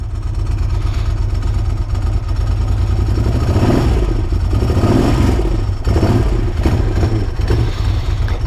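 A Moto Guzzi Quota motorcycle engine runs loud and close, a deep, throbbing idle with a steady low pulse that rises into a few revs toward the end.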